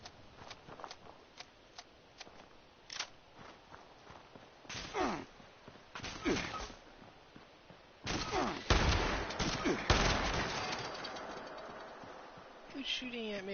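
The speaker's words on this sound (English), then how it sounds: "Who's shooting at me up there?" Gunfire in Fallout 76: irregular sharp shots and bursts, some distant and faint, then a louder, denser volley in the second half, with a player talking and muffled movement between the shots.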